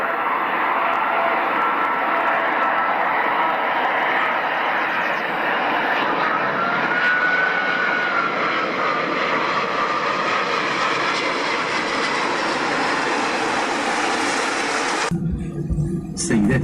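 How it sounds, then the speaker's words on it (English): Inside an airliner cabin during landing, a loud, continuous jet engine roar fills the space, with a whining tone slowly rising and shifting before the noise drops sharply near the end. "Ladies and gentlemen, we have just landed."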